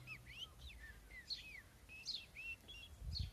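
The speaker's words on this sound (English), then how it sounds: "The blackbird undersong is a beautiful thing because you can occasionally hear it." A little blackbird sings its very quiet undersong from inside a hedge, a series of faint, thin warbling phrases at a distance against a soft background hum.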